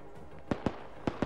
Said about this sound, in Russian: Вот это М2 сейчас стреляет по врагу